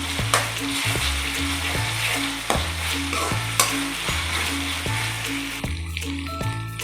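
Ginger garlic paste fries with onions in a pan for egg biryani, with a steady sizzle under repeated close, regular scraping stirs about twice a second and no voices.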